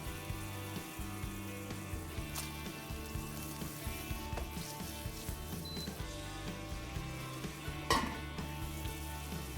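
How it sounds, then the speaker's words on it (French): Whole cherry tomatoes simmer and soften in oil in a pan, giving a steady low bubbling sizzle with faint clicks and one brief clatter near the end, with no voices. "j'ajoute des tomates cerises entières et je les fais simplement compoter quelques minutes"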